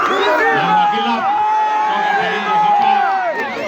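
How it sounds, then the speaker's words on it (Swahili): Large crowd at an outdoor political rally in Baringo North, Kenya, cheering, whooping and clapping in a steady, loud roar with shouting voices throughout. "mpigeni makofi Baringo North"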